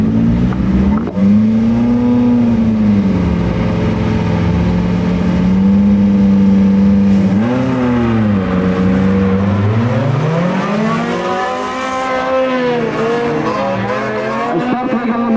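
Race cars revving and accelerating off the start line at the Russian Winter 2022 auto show in Slobodskoy, several engines roaring loud and close with rising and falling pitch sweeps, steady and continuous without talk.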